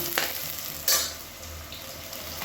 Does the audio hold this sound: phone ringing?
no